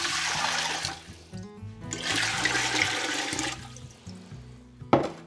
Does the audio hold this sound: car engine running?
no